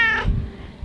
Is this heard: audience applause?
no